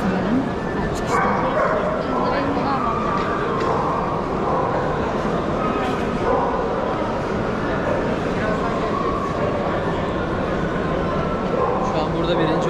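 Several dogs bark, yip and whimper at a wolfdog competition at a pet fair, scattered calls over a busy indoor crowd din with people talking throughout.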